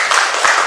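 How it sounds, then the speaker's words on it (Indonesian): A classroom of students applauds in a short, dense burst of clapping at steady, fairly loud level, with no voices over it. "Tepuk tangan"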